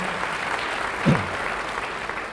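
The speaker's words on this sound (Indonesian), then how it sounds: "Beri tepuk tangan yang baik bagi dia." Church congregation applauding during a sermon; a steady wash of clapping throughout, with a brief low vocal sound partway through.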